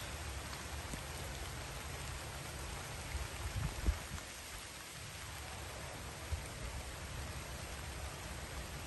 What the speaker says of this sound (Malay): Ini lagi hujan.